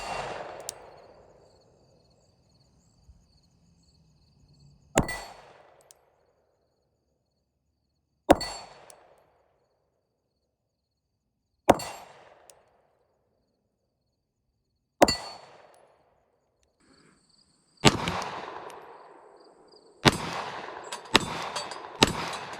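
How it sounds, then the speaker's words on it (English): Pistol shots fired from behind a handgun fitted with a Vortex Venom red dot sight, outdoors: loud, sharp single reports spaced a few seconds apart, each with a short ringing decay, then a quicker cluster of shots at the end. "let's take a couple of shots from behind the gun here"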